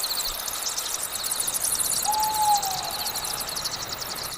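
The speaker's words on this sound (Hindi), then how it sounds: "जंगल में कभी भेड़िए की आवाज आती, कभी उल्लू की।" A single drawn-out owl hoot rises briefly above a dense background of rain or insect hiss in a forest at night, faint and somewhat distant, with no voices.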